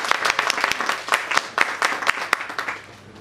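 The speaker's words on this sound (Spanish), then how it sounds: "¡Un aplauso!" An audience claps for finalists being introduced at a figure competition interview, a lively burst of sharp individual claps with uneven rhythm that thins out toward the end.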